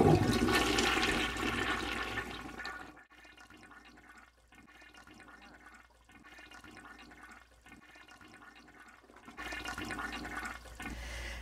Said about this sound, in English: So when I flush it,